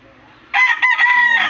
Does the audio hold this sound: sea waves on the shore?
no